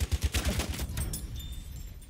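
Pistol fire in Battlefield 1 comes as a quick string of close, punchy shots in the first second, then gives way to quieter game noise with faint distant cracks.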